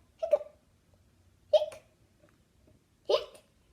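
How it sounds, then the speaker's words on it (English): Three evenly spaced hiccups come from a reader voicing a character in a children's storybook. Each one is short, sharp and close, and quiet gaps separate them. "Pete still has the hiccups."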